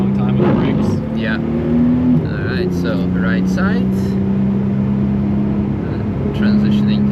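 A BMW E36 M3 Evo on the Nurburgring, its engine droning steadily and shifting pitch through gear changes as it laps, with people talking over the cabin noise throughout.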